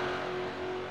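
A V8 rear-wheel-drive race car engine holds a loud, sustained rev during a six-hour endurance race, a steady droning roar with no voices.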